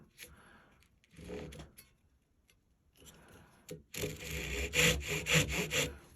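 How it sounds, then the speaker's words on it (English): A hand saw rasps through wood cutting a dovetail joint in steady back-and-forth strokes, loud and close, after a few quieter scraping sounds at the start. "I'll start sawing the corner"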